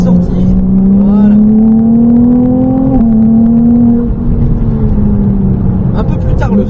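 A Ferrari 296 GTB engine pulls hard on a race circuit, its rising drone climbing steadily in pitch before a brief dip and a renewed climb, loud and close, with a voice speaking briefly over it.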